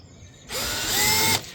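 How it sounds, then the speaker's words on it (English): A power drill bores into the door of a VW T4 van in one loud burst of about a second, whining and biting into the metal after a quiet start, then cutting off. "I'm drilling into the door with my T4."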